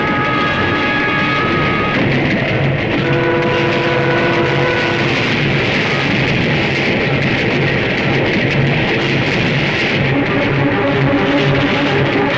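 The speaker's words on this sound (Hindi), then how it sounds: "अरे ये क्या, ये ट्रेन रुकी क्यों नहीं?" A train rushing past without stopping, a loud, steady rumble with shifting tonal whines throughout, heard alone with no talk.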